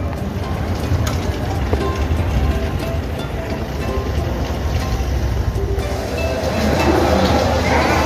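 Night ambience at Howrah railway station near the metro section: a steady rumble of trains and crowd noise with a constant hiss, and voices faintly mixed in.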